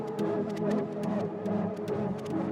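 A processed synth tone in Ableton with a ShaperBox preset on quarter-bar LFO modulation, half mix, producing a steady, pulsing, filtered texture with rhythmic high-end flickers, played alone.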